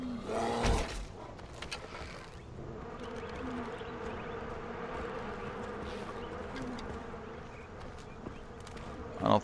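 Bees buzz in a continuous droning swarm in the Far Cry Primal video game, a brown bear nearby, with a sharp thud at the start and no talk.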